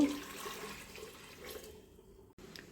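Water poured into a pot of lentils for cooking dal in a home kitchen, a soft, fairly quiet continuous stream that thins and stops near the end.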